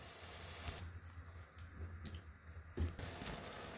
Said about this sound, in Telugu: కొద్దిగా వాటర్ యాడ్ చేసుకున్నామండి.